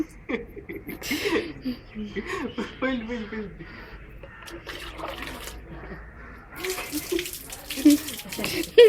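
Water splashes and pours over a Rottweiler puppy during a bath, coming in uneven bursts and trickles with a louder gush near the end, while people talk and laugh throughout.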